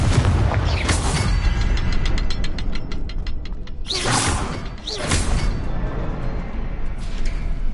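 The Confringo fire spell in Hogwarts Legacy is cast, giving sharp whooshing bursts and booming blasts over ticking, ratchet-like mechanical clicks. The sounds come in several loud, close hits across the scene.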